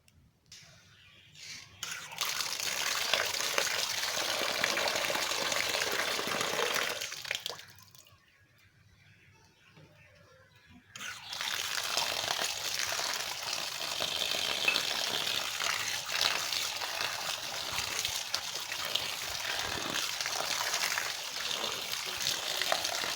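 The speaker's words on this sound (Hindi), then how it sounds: "अभी इन्हों को अच्छी तरह से धो लेंगे और फिर उन्हों को उबालेंगे पानी में" Cut radishes and their leaves being washed in water in a village kitchen, a steady splashing and trickling of running water, briefly pausing midway before resuming for the rest of the stretch.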